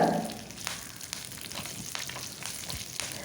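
Curry leaves, dried red chillies and fenugreek crackle in hot oil for a small onion pickle, beginning with a loud spatter, then settling into a steady, close, even sizzle with light pops.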